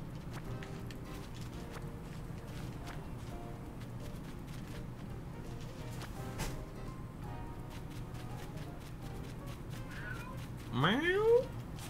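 Oreo the cat lets out a single rising meow near the end, after a long stretch of faint room noise with scattered small clicks.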